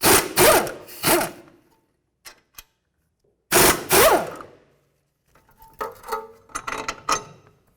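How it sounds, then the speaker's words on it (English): Pneumatic air gun rattles in short, loud bursts on the front strut bolts of a 2007-2012 Nissan Altima, two quick pulses, a pause, two more, then lighter clanking of tools and metal parts. "we're going to use the air gun because it makes the whole job a little bit faster"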